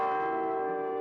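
A single church bell rings out, its bright, sustained tone humming steadily and slowly fading.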